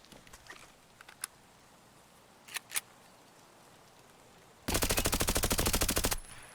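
An MP7 submachine gun in Escape From Tarkov fires one sustained, loud full-auto burst of about a second and a half, preceded by a few faint isolated clicks and brief handling noises.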